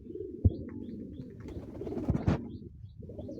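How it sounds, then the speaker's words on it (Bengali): A male King pigeon gives a few soft, low coos close by, separated by short pauses in a quiet setting. "আমার কাছে একটা কিংয়ের নর আছে"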